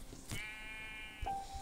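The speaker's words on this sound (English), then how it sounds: "Bro, this white sheep." A Minecraft white sheep bleats twice in quick succession, two short wavering calls that sound close and clear against a quiet game background.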